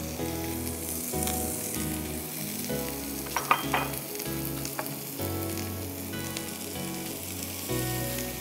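Boiled peas, carrots and cauliflower fry in a tablespoon of oil with crushed black pepper, a loud continuous sizzle with scraping stirs and a brief clatter midway, close and without talk.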